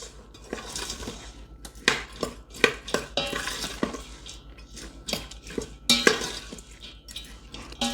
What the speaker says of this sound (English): I'm just going to give a quick stir.